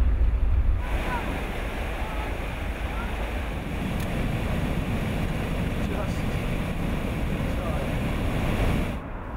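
Water swirls and churns steadily inside a marina lock, a continuous broadband rush mixed with wind buffeting the microphone, fairly loud and unbroken throughout.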